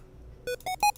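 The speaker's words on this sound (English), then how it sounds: "You can change the duty cycle so that it sounds like" Three quick, rising square-wave synth beeps with changing duty cycle, each brighter and louder than the last, with a thin buzzy hollow tone.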